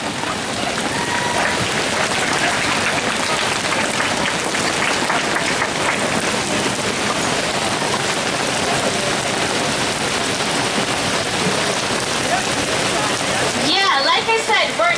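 Heavy rain pours onto an outdoor multifaith peace picnic and prayer gathering, a dense, constant hiss throughout, with a voice rising above it near the end.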